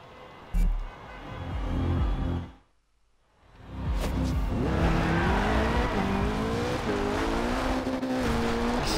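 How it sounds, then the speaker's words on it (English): Rockstar Energy rally car racing in Forza Horizon 2, engine revving and climbing through gear changes up close, with a brief near-silent gap before the loud, steady drive resumes. "This is a rally car that Tanner Faust out of Top Gear USA drives in."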